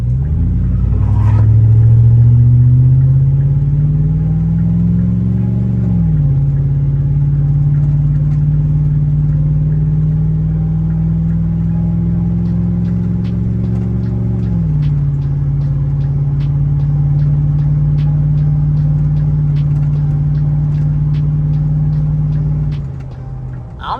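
A 5.3 V8 Chevrolet Silverado fitted with a Volant cold air intake revs at half throttle, a loud, close, steady engine drone that rises, dips near six seconds, climbs again and drops around fifteen seconds before settling.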